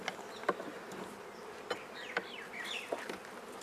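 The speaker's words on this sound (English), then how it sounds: "Sometimes you can shake a large number of bees off and then just sweep the odd ones." Honey bees hum and buzz near the hive as frames are shaken out in a tropical apiary, a low steady drone with several individual bees zipping close by.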